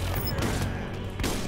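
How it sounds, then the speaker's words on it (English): A grenade goes off in the Borderlands shooter game, a dense rumbling blast amid a busy wash of gunfire and mechanical game noise, with a fresh burst near the end. "Ah, that's a grenade."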